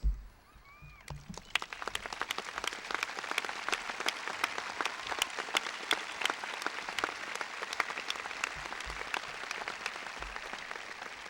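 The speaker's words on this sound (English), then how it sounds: "Please join me in applause as I ask our faculty to stand and be recognized." Sustained applause from a graduation ceremony audience as faculty stand to be recognized, a dense steady roar of many hands clapping that rises after a brief opening and carries on for about ten seconds.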